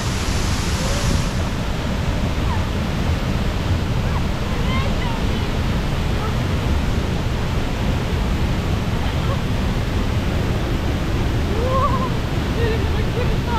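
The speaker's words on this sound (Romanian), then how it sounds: "Haideți să ne apropiem mai aproape de cascadă." Broadband roar of a waterfall heard up close while approaching it, a steady dense rush filling the whole clip without pause, with no talk over it.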